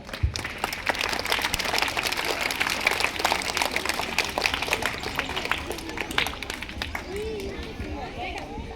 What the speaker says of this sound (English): Please encourage the student with the claps